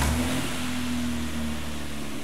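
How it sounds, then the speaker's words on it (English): A Toyota 2JZ engine runs at a steady, loud idle on a tuning setup, a continuous low hum with no voices over it. "So we're gonna fire up our 2JZ engine for this demonstration."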